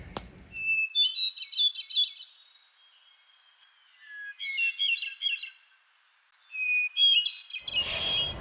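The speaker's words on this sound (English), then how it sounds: "I heard this hermit thrush the other day." A hermit thrush sings three separate phrases, each opening with a clear sustained whistle that breaks into fluttering, rising notes, with quiet gaps between them, and a burst of noise at the very end.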